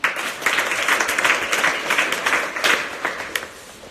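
An audience at a presentation claps together in a rhythmic burst, dense, fairly loud clapping with repeated accented peaks across the few seconds, mostly in unison.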